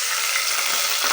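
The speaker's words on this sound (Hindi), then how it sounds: "और साथ में थोड़ा सा पानी डाल देना" Onions browning in a pan with salt and a splash of water hiss in a loud, steady, close sizzle that holds without pause and has no voices over it.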